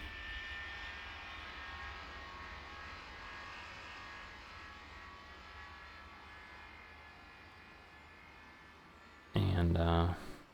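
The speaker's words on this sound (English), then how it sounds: "you can hear him throttling up fully now" Southwest airliner engines in Tower Simulator 3 spool up to full throttle, a faint, steady distant roar and whine that holds for several seconds before a short louder burst near the end.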